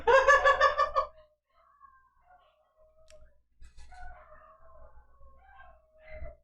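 A dog lets out a short, loud wavering howl, followed by fainter, drawn-out whining howls trailing off nearby in a quiet room.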